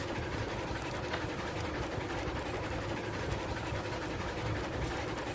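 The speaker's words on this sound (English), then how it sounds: "Is train noises too loud" Train noise in the railroad game Railroads Online: a constant dense rumble and rattle with a steady clatter, loud and unbroken throughout, with no voices.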